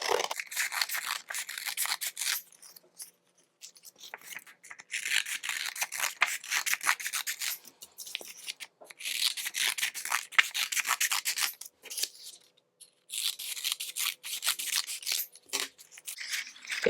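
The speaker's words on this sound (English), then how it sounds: "cut out these strips first, and then move on to the green paper and cut out those strips" Scissors cut paper into strips for a preschool practical life activity, heard up close as repeated bursts of crisp snipping and rubbing, separated by short pauses.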